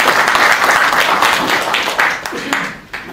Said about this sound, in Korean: 다시 한번 감사의 박수를 부탁드립니다.